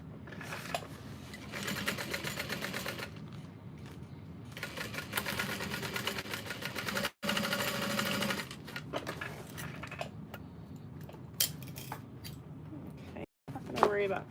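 A home sewing machine stitching through thick tote bag seam allowances runs in long, steady, close bursts of fast mechanical whirring with brief pauses between runs, while people talk over it at times.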